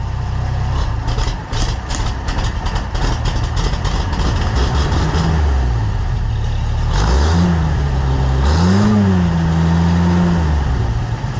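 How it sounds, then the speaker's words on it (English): An engine idling on a cold day: a steady, loud low rumble throughout, with rev changes audible as rising and falling pitch sweeps in the second half. "Cold day at an idle, starts right up."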